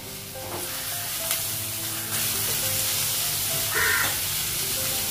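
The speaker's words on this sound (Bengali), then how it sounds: "আলু বেগুনটাও লাগিয়ে দিই, ভেজে রেখে তরকারি।" Potato and eggplant fry in a pan with a steady close sizzle, and faint crow calls sound in the background.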